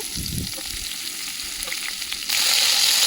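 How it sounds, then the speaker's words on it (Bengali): Bitter gourd frying in hot oil in a pan after fish was fried in it, a steady broadband sizzle with a few low stirring knocks early on, growing louder and brighter near the end, with no talking. "ওই তেলের মধ্যে উচ্ছেগুলো দিয়ে ভেজে নেব।"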